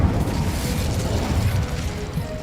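The Incendio fire spell is cast in Hogwarts Legacy: a whooshing, crackling burst of flame with low rumbling booms, steady and moderately loud for a couple of seconds.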